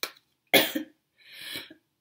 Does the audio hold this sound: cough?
yes